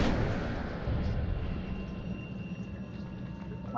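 A fire spell cast in a wizarding video game bursts out with a loud, dense roar that sustains steadily for several seconds, like heavy crackling combustion.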